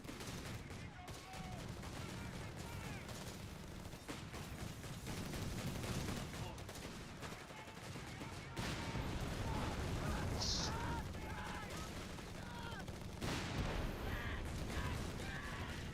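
Machine gun fire and battle noise in the video game Company of Heroes 3, bursts of rapid shots and explosions in a dense mix, with a commentator talking over it.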